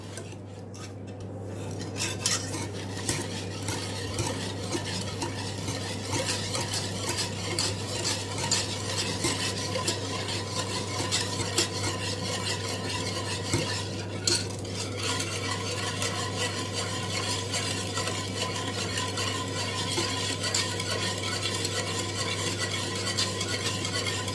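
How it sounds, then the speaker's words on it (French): A spoon stirs a cold tart filling made with a little flan powder, scraping and clinking steadily against the bowl for a long stretch with a constant low hum behind it and no talking. "Je mélange tout ça au froid."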